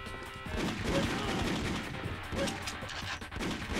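Gunfire from a PlayStation 1 light gun shooting game, a dense, continuous stream of sharp bursts and impacts layered over game sound with no clear gaps.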